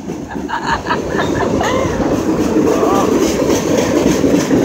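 A freight train rolls past close by with a loud, continuous rumble and rattle of cars, with faint wheel squeals and a voice briefly audible beneath the noise.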